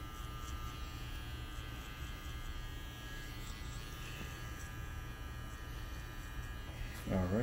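Electric hair clipper running on hair during a barbershop cut, a faint steady buzzing hum throughout, with a brief louder scrape near the end.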